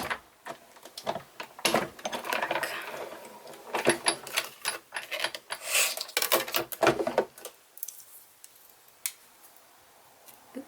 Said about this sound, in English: I have my die cutting machine like close by. Pull it through.